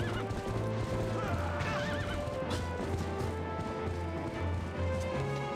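A horse whinnies loudly over steady galloping hoofbeats in The Legend of Zelda: Twilight Princess, with music and game sounds filling the background.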